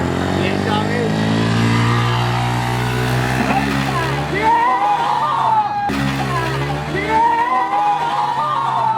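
Dirt bike engine at a motocross compound revving steadily and loudly, its tone rising and falling in repeated pulls, with people talking and shouting over the engine noise.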